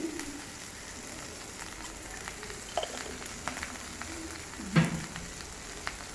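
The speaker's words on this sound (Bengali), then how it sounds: "দিয়ে এটাকে একটু লাল লাল করে ভাজতে হবে।" Drumstick stems frying in a pan with turmeric and salt give a low, even crackling sizzle with occasional pops, quiet and close, with no one talking.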